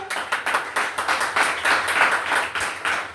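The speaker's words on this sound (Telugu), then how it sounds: "కొట్టు, గట్టి కొట్టు, చప్పట్లు కొట్టు గట్టిగా." A church congregation claps loudly and in rhythm during a pastor's sermon, a dense, close burst of steady hand claps continuing throughout.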